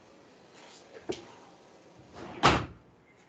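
A door swings shut in a room during a lecture, ending with one firm thud after a couple of softer knocks and rustles.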